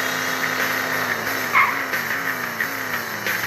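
A car under hard emergency braking lets out a long, wavering tire squeal against a steady engine drone, loud and close, with a brief sharper screech partway through.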